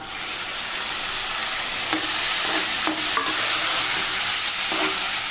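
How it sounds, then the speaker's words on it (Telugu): Chopped tomato pieces hit hot oil in a pan for a drumstick curry, setting off a loud, dense, continuous sizzle with a few soft scraping stirs over it. "మనం ముందుగా కట్ చేసి పెట్టుకున్న టమోటా ముక్కల్ని ఇందులో వేసుకుందాం"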